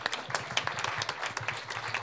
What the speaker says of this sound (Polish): Brawa wielkie.